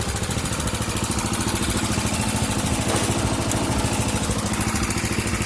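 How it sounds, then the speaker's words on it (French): A rebuilt racing lawn tractor engine runs close by at a steady, rapid chugging idle, loud and continuous throughout with no talking. "Comme vous pouvez l'entendre, le tracteur tourne, il est remonté"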